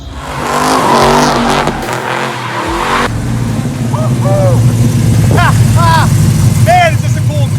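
A Chevelle hot rod engine runs indoors in a garage, a loud steady idle and rumble that revs up before settling, with someone talking over the engine and a few high squeaks near the end.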